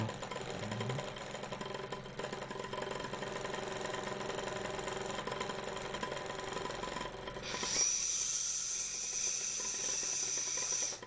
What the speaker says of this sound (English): The Jensen Model 45 steel boilered version under steam.